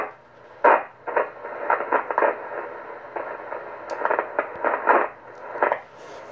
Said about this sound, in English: you hear there's some noise in the switch here